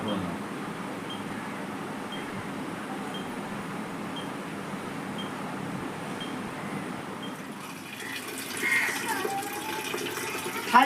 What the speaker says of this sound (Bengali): খালি বালতি, ঢাকনাটা উপরে জল পড়ে যাচ্ছে।